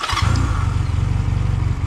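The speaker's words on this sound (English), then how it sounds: "and your motorcycle's running" A motorcycle engine fires up and settles into a steady, throbbing idle, the low rhythmic chug close and loud, with a brief higher whir at the start as it catches.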